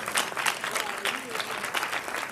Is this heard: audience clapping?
yes